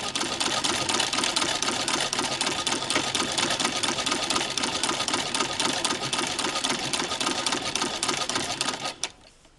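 A Singer 15-88 sewing machine fitted with a zigzagger stitches fabric in a loud, continuous rattling hum, halting abruptly just before the end.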